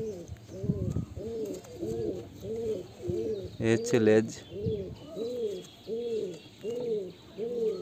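A Murshidabadi Giribaj pigeon coos in a steady run of about eight rounded, repeated calls, close and clear, while someone speaks briefly partway through.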